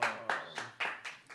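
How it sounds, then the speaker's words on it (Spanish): Applause welcoming a performer at a bohemian music show, heard as a handful of separate, fairly close hand claps in an uneven rhythm, quiet overall. "Vamos a recibirla con un fuerte aplauso."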